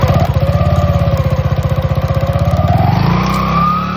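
An Rs8 motorcycle engine, freshly fitted with a new drive bearing, idles close by with a loud, even pulsing thrum, then rises slightly in pitch near the end, with no talk.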